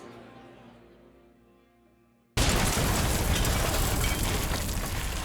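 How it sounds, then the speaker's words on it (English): A deafening bomb blast in a crowded bar strikes suddenly after a fading tonal passage, then a dense, roaring wash of debris and noise follows, loud and sustained. "a deafening explosion tore through the room"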